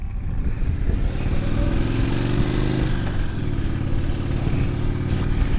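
A motorcycle pulls away in first gear on Arkansas Highway 123, its engine droning steadily and close, with a rising rev partway through before settling into a constant mid-pitched hum.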